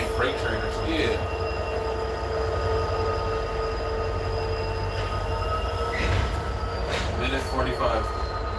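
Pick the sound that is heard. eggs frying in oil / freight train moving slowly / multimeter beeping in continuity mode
freight train moving slowly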